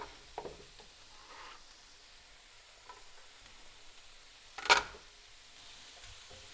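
Garlic and other ingredients sauté in a pan for a scratch-made lasagna, a soft, steady sizzle with gentle stirring scrapes and one louder clatter near the end.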